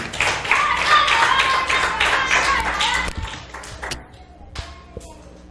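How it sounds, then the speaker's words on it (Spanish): Congregation applauding loudly in a church service, dense claps with mixed voices lasting about three seconds before tapering into scattered taps and a fading murmur. "Denle un aplauso fuerte al Señor."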